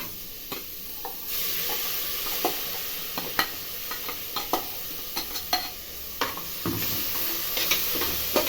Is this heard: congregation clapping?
no